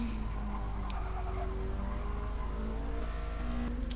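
A BMW M3 E30 race car engine at Bathurst in a racing game holds a steady droning note with slight pitch shifts, a constant mid-distance hum with no voices.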